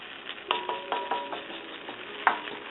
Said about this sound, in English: we're going to give everything another thorough stir with my wooden spoon